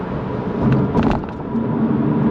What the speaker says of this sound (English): There's a nice howl coming from that Boxster engine, that's for sure.